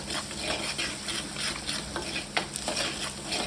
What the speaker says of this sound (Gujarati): અને હવે આપણે થોડુંક હલાવી નાખીશું.